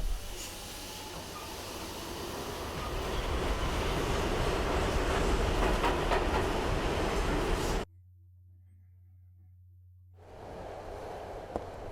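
A subway train runs in the Silent Hill 3 video game with a loud, steady rumbling hiss for about eight seconds, then cuts off abruptly to a low hum before a quieter rushing noise returns.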